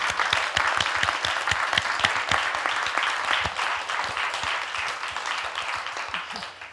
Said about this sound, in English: So just finish with a clap.